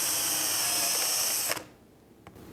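A power drill with a self-limiting bit boring shelf pin holes whines steadily at high speed, then stops abruptly, leaving a quiet room with a brief click afterward.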